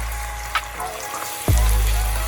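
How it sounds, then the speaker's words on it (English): Eggs hit a hot pan for stir-frying during shrimp fried rice, a sharp burst of sizzling that swells loudly midway and holds as a close, steady frying hiss. "you want to quickly stir fry that so it doesn't become one whole piece"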